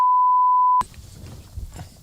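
A censor bleep covers spoken words: one steady, loud pure tone lasting under a second that cuts off abruptly, followed by quiet room noise and faint murmuring.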